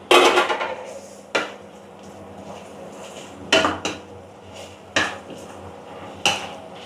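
A stir-fry of fern with shrimp paste and shrimp is scooped from the pan onto a plate. About five sharp metallic clanks of utensil on cookware ring out, separated by quiet pauses, with no voices.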